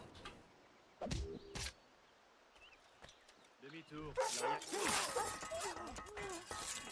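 A dog barks in the video game Assassin's Creed Rogue, a few short sharp barks near the start and more amid clattering game noise and a talking voice later on.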